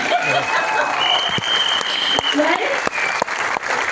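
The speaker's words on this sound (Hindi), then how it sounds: "जोरदार तालियां।" Applause from a company meeting audience, steady crowd clapping throughout, with a few sharper individual claps near the end and no talk above it.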